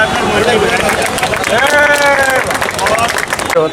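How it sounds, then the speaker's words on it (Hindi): Loud crowd applause at a local community gathering honouring an MLA, dense clapping running throughout while voices and cheering carry over it. "जोरदार तालियां बजाकर"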